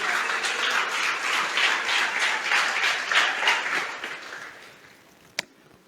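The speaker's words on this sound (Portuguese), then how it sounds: "Você pode aplaudir ao Senhor?" A church congregation claps in praise during a sermon, a moderate burst of rhythmic, steady applause that gradually thins and fades out, ending with one sharp isolated clap.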